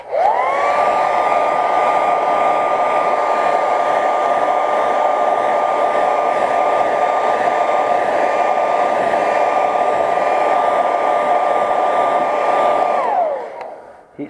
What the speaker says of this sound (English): Go back and heat set this one real quick.